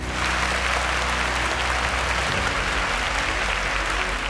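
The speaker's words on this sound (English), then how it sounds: "A round of applause for him." Studio audience applause for a correct answer by a contestant on a Nigerian school quiz show semi-final, a dense, steady burst of clapping that holds at full strength throughout, with a low hum beneath.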